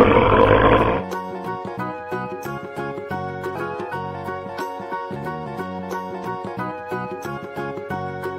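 A tiger's roar opens with a loud, broad growl lasting about a second, then gives way to bouncy children's music that carries on to the end.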